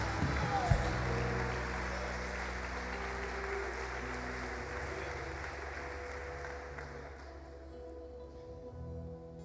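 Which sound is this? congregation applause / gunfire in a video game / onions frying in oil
congregation applause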